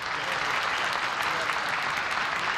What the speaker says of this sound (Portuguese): eu até queria pedir uma salva de palmas de pé para o meu presidente